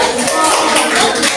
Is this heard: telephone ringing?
no